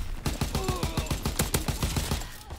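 MG42 machine gun fire in Call of Duty: WW2 multiplayer, a rapid close burst of roughly fifteen sharp, evenly spaced shots ripping out over two seconds with a loud percussive crack on each round.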